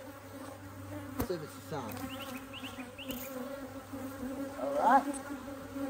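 Honey bees buzz steadily around an open hive during an inspection, a close, continuous droning hum with a brief spoken word partway through.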